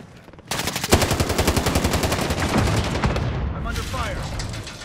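Rapid automatic gunfire roars in a Call of Duty: Modern Warfare firefight, a dense sustained burst after a brief quiet start, loud and close, with faint game voices mixed underneath.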